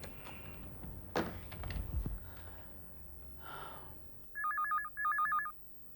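A telephone rings in a household, two electronic trilling bursts near the end after some rustling and soft movement noises.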